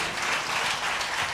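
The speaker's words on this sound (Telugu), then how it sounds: "చప్పట్లు కొడదాం అందరూ గట్టిగా" A church congregation at a special prayer service claps loudly together, dense continuous applause filling the room.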